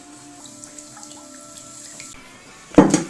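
Water is poured into a brewing container with yeast while making homemade alcohol; a quiet stretch of faint tones gives way to a sudden loud splash near the end.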